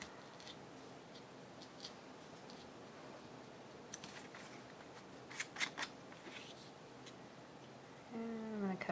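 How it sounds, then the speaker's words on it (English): Scissors cutting fabric for an envelope craft, soft close snipping and shearing crunches in short bursts, with a brief voice starting at the end. "I'm going to cut right here."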